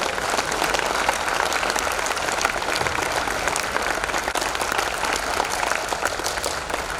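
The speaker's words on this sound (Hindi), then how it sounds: "इतनी सी तालियां" Sustained audience applause at an RCM seminar in Bhilwara, a dense steady wash of many hands clapping throughout, fairly loud and even with no break.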